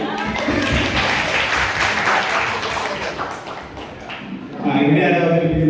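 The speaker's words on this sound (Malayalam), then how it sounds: "എല്ലാവരും കൂടി ഒരു ക്ലാപ്പ് കൊടുക്കാം." Relatives at a family get-together applaud together in a dense, fairly close round of clapping that runs throughout, with voices mixed in and a louder swell of claps and chatter near the end.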